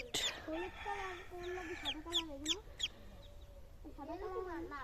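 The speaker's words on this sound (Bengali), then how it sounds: "দেখেন কত কিউট হাঁসের বাচ্চা" Young ducklings peep and chirp in quick, bright bursts close by, with a few louder calls clustered mid-way and a fainter murmur of voices around them.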